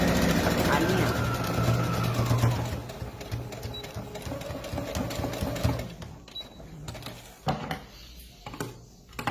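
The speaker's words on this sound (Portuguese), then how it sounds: "Iniciaremos a última costura da lateral que faltava" A sewing machine stitches the final side seam of a garment in a sewing workshop, running in steady bursts that are loud at first and then break into shorter runs. Speech is heard faintly in the background.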